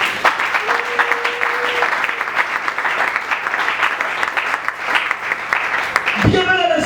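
A church congregation claps loudly and continuously in dense applause for several seconds before it breaks off near the end, while a voice speaks briefly over it.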